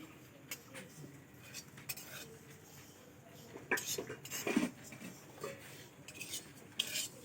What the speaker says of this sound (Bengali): দেখেছো কীভাবে চিড়েটা ভেজে নিচ্ছি